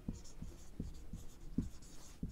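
Chalk or pen writing strokes on a board during a class 9 science lesson, a series of short, quiet taps and scratches in an uneven rhythm, with faint speech in the background.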